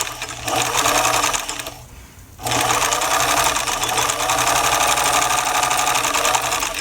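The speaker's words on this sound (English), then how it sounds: "And we'll just straight stitch this all the way down." A sewing machine runs a steady straight stitch down a seam on a small raglan doll shirt, loud and close, with a brief pause partway through before it resumes, no talking.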